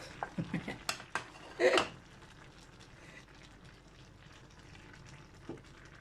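A spoon scrapes and clinks against a pot while paella ingredients with peppers are stirred, a burst of sharp metallic knocks early on, then quieter scraping over a soft sizzle.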